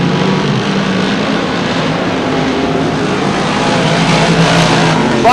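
Sportsman modified race cars power out of turn two at a short oval track, a loud, dense engine roar that holds steady and close throughout with no break.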